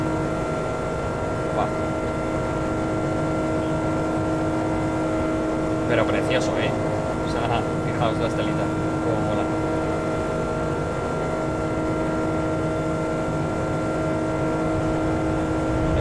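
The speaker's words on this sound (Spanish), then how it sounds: "por fuera suenan un montón los motores" Airliner jet engines heard from outside in the X-Plane 11 flight simulator on a Madrid to JFK flight, a loud constant roar with a steady whine throughout, someone talking excitedly over it.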